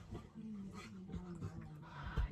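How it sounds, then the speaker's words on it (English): A dog whimpers and whines in short, high-pitched bursts, close and fairly quiet, with a person talking over it. "My dog's doing something really weird."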